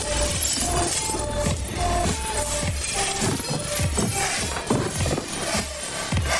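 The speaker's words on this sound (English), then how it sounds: "the glass on the window cracked from pressure" Window glass cracks and shatters under pressure: a dense, continuous crackling and splintering that stays loud and close for several seconds, with no voices.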